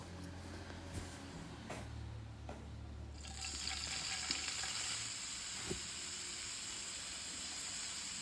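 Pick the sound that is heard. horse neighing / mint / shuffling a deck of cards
mint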